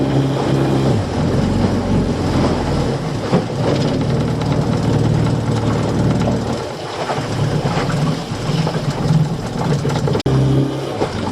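A fishing boat engine, loud and close, runs in a continuous heavy rumble with a steady throb and slight changes in load.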